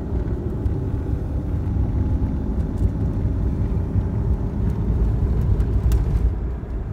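A 1980s Dodge Dynasty cruises on the freeway with the air conditioning running, giving a steady, loud low road-and-engine rumble from inside the cabin with no talking.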